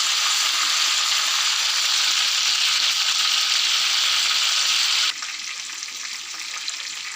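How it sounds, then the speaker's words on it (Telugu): Chicken frying in a pan over a slow flame gives a steady, close sizzle, which drops to a quieter level about two-thirds of the way through. "ఇలా వేసుకొని బాగా స్లో ఫ్లేమ్లో మనం ఫ్రై చేసుకోవాలి"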